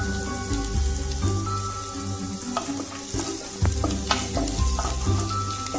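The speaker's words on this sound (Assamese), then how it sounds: "এইখিনি 1 মিনিটমানৰ কাৰণে মই ফ্ৰাই কৰি ল'ম।" Veg momo filling sizzles and spits in a hot pan, a loud, steady frying hiss with occasional crackles and stirring scrapes, no voices over it.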